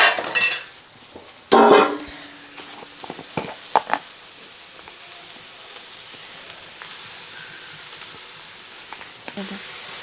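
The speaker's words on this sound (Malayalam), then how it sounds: "ഞാൻ സ്പൂൺ കൊണ്ട് തന്നെ ഒന്ന് ഇളക്കുകയാണ്" A spoon stirs spinach in a full pan in a kitchen, giving a few loud clanks and scrapes near the start, then scattered soft knocks and rustles over a quiet background.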